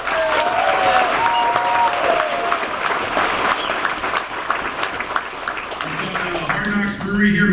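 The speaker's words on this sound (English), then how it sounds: "Let's give her a big round of applause." A crowd at a political rally in Edmonton breaks into loud, sustained applause with scattered cheers and voices mixed in, tapering slightly near the end.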